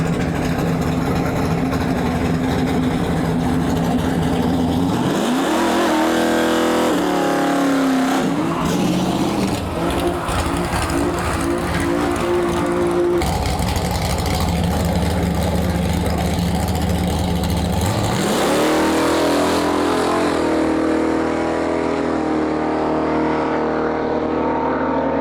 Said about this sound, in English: We got a 1972 Ford F100 pulling up on some big, big drag tires